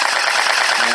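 A CELOSIA M416 gel ball blaster firing on full auto, a loud, close, rapid, continuous buzzing rattle of shots lasting about a second.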